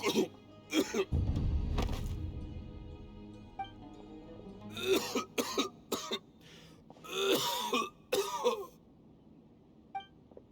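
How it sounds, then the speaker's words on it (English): A man coughs repeatedly in rough bursts and clears his throat, with short pauses between fits and a brief rumble early on, a character in Genshin Impact. "Why is he coughing so much?"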